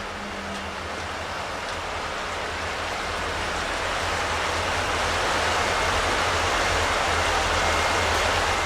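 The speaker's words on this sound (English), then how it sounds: "It's one of these open grate bridges. It makes a lot of noise when you drive over it." A car drives over an open steel-grate bridge deck, producing a steady loud roaring whir that grows slightly stronger over several seconds.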